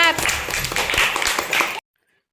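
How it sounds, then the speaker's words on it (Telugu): Students in a primary-school classroom clap together in a burst of loud applause lasting under two seconds, then it stops abruptly, with voices mixed in. "క్లాప్."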